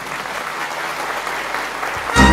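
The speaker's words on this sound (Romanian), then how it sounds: "Aplauze pentru Laura!" A crowd claps steadily throughout, a dense, sustained burst of applause filling the room at a live concert show.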